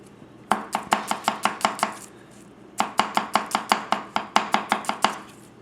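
A Goko 240mm gyuto knife chops through an onion on a board in two quick, even runs of about a dozen crisp taps each, separated by a short pause, loud and close with no talking.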